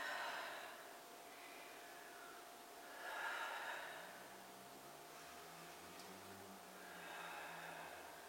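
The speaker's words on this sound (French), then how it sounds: "On respire." Slow, deep breaths during a pregnancy breathing exercise for natural childbirth, three soft inhale-exhale swells spaced a few seconds apart, quiet and close with no talking.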